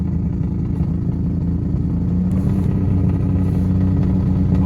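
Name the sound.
car engine revving hard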